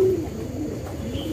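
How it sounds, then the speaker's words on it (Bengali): Desi pigeons perched on a tin house roof at a loft on a foggy morning give soft, low coos against a quiet, steady background. "আমার টিনের ঘরের চালের উপর অনেক কবুতর বসে আছে"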